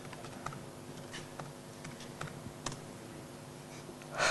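Someone types on a computer keyboard during a Wikimania conference demonstration, producing a scattered run of light, close key clicks with a louder clack at the end and no talking.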